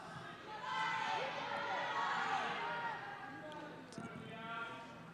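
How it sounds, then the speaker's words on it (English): A crowd at a paraclimbing championship final cheering and roaring for a climber, swelling loud for a few seconds then easing, with faint claps and shouts. "The crowd saw what was coming and hyped her up."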